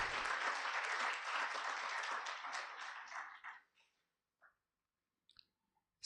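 Applause for an online presenter at a tax breakfast event, a dense burst of many hands clapping that thins out and fades after about four seconds, leaving a few scattered faint clicks.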